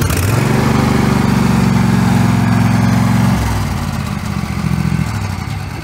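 A tractor engine runs steadily and loud and close, its low throbbing note rising briefly before settling into a rougher idle with clattering, outdoors at dusk.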